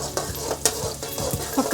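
Chopped garlic and finely cut ginger fry over low heat, a soft steady sizzle broken by several quick stirring clicks and scrapes of a utensil against the pan.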